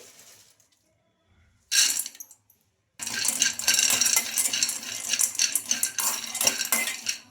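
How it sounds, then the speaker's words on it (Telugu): Peanuts frying in a kadai rattle and clatter as they are stirred, a brief burst after a quiet pause and then a sustained, busy run of close scraping and tumbling. "ఈ పల్లీలు అయితే బాగా ఫ్రై చేసుకోవాలి"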